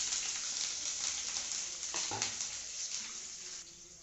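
Ginger garlic paste fries in a pan with curry leaves and green chillies for a prawn curry, giving a soft, steady sizzling hiss with a few faint stirring knocks, fairly quiet and without voices.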